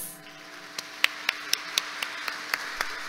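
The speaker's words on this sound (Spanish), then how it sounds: "un fuerte aplauso para todos ustedes" Sparse, evenly spaced handclaps at a professional association's collegiation ceremony, about nine sharp claps in three seconds over a faint room hum, fairly quiet rather than a full crowd.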